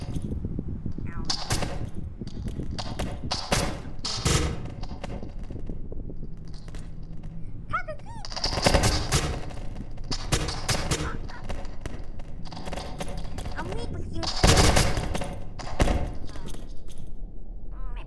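Gunfire from a gun in the Melon Playground video game, a series of loud sharp bursts and rapid volleys spread across the stretch, with softer clicks and thuds in between.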